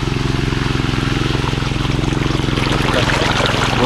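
Water rushes fast and steadily from a garden hose outdoors, a loud continuous gushing with a rhythmic pulsing flutter underneath, running alone without talk.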